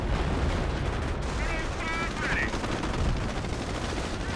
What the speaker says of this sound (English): Using rocket barrage like CM2.